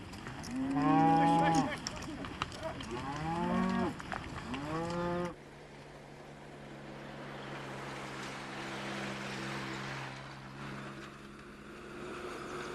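A Central Asian cattle herd gives several long, loud moos in the first few seconds. Afterwards a low, steady droning hum carries on under faint background noise.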